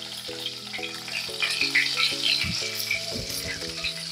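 Cumin seeds, curry leaves and asafoetida sizzle and crackle in hot oil in a pan for Indian cooking, a steady close frying hiss with bright pops and a few clinks of stirring.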